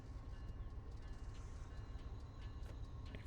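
An MBTA commuter train in Train Sim World 5 accelerates under power with a steady, loud, low engine drone and rolling rail noise throughout, with no talking.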